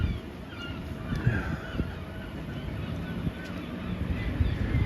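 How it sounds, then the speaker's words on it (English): Seagulls call faintly along the coast in Hull, their cries drifting over steady wind noise and a distant background murmur of people outdoors. "You can hear the seagulls there."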